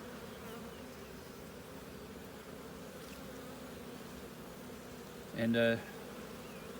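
Honey bees buzzing inside a beehive around brood, pollen and sugar syrup, a low continuous drone heard close and faint, with a brief spoken phrase breaking in near the end.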